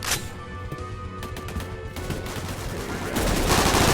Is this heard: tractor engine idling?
no